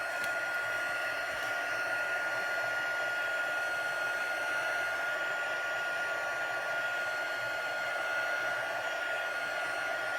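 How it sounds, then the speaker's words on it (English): A handheld heat tool blows steadily for about ten seconds to dry ink on a paper stamping project, a constant loud whirring hiss with no breaks and no talk. "I'm going to hit this really quick with my heat tool just to dry it."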